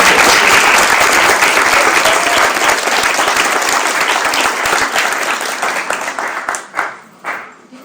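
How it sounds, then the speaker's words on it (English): A large audience applauds at a ceremony celebrating Constance Baker Motley, honouring Marta and the Historical Society with dense, sustained clapping that thins and fades into scattered claps toward the end. "I'd like to give a round of applause to Marta and the Historical Society"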